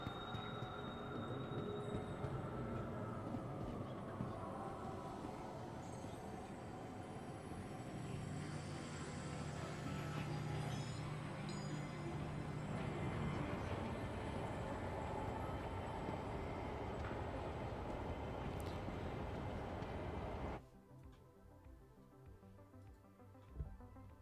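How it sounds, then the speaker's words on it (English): A tram ride in the Star Citizen game gives a steady rumbling hum of motion with rising and falling tonal whine, continuous for about twenty seconds before dropping to a quieter, thinner ambience near the end. "I'm on the tram now."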